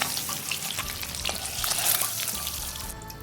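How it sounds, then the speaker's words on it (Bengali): Eggs frying in hot oil for a Bengali-style egg curry, a steady dense sizzle with crackling pops throughout, close and fairly loud, with no voices. "ডিমগুলো ভালো করে দেখুন ভেজে নিয়েছি 2 মিনিট।"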